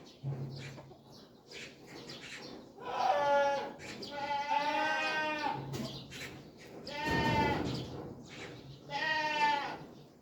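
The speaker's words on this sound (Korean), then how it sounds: "저 빠삐용 염소입니다" Several loud, wavering goat bleats on a small farm that also keeps chickens, coming in separate bursts close to the listener with quieter farmyard noise between them.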